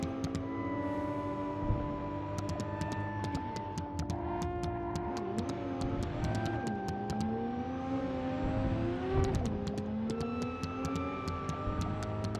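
A car engine in the video game Cyberpunk 2077 hums and revs steadily with shifting pitch, accompanied by light ticking and whirring, continuous with no talking.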